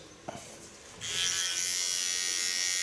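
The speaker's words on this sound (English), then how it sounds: "Come to the other lines and take my small clipper." A small electric hair clipper cutting ultra short hair during a haircut, first a brief tap, then a loud, steady, close buzz that runs unbroken to the end.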